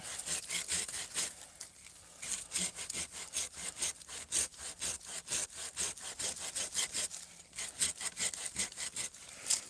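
A hand saw works through knotty wood outdoors, with steady, rapid back-and-forth rasping strokes. The saw is close and loud, and it pauses briefly where the blade binds before resuming.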